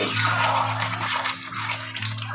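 Water pours into a pot of meat curry cooking in red gravy, a steady continuous splashing rush that runs unbroken and fairly loud throughout.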